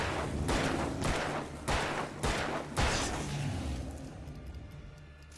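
Flashbang grenades going off in the Alan Wake video game: four or five loud, sharp bursts spaced about half a second to a second apart, followed by a fading ring into quiet.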